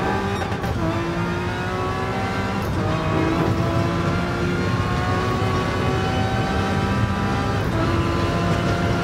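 A Jaguar XJR-9 race car engine roars at a sustained high pitch in Gran Turismo Sport on the Nürburgring, holding loud and steady with slight rises and dips as it runs flat out.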